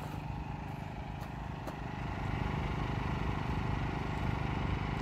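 An inverter generator runs steadily inside a DIY fiberglass enclosure for an RV, heard from close by on the intake side. The hum is a constant mid-level drone with a slight rise in loudness partway through, with no talking.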